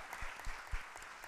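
Brief, faint applause at a formal ceremonial session honoring an evaluation committee, heard as a soft, distant patter of hands with a few louder thumps.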